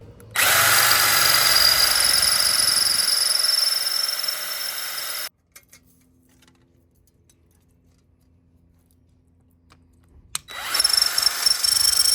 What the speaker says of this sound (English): like an aluminum bar, drill 4 holes in it